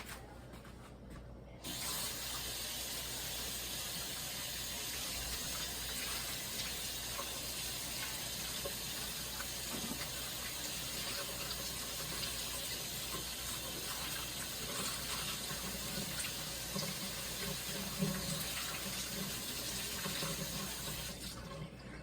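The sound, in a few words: tap water running while washing hands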